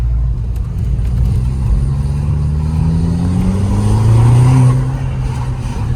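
A car engine idles with a low rumble, then revs up, its pitch rising and swelling briefly before settling back down.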